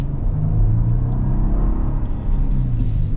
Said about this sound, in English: Smooth V6 power, man.